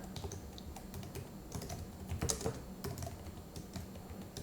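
Rapid typing on a computer keyboard while coding a Go program, a quiet, steady patter of irregular clicks close by with a few louder taps, no voices.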